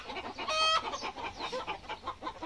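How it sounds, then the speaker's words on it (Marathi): Several hens cluck close by on a farm, a busy overlapping chorus of short clucks with one louder squawk near the start, continuous through the clip. "आम्हाला पाहून थोड्या जास्त ओरडतायत वाटतं कोंबड्या."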